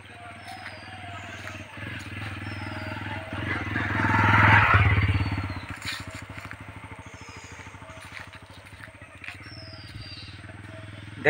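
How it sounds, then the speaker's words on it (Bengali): A motorcycle engine swells as it approaches and passes along a road through a bamboo forest in Assam, peaking loud midway before fading, with a steady low hum and faint clatter around it. "বাবা, একটা মোটর সাইকেল এসছে, এখন সন্ধ্যা হয়নি তো, অনেক আগে, এই জন্য মোটর সাইকেলটা আসছে।"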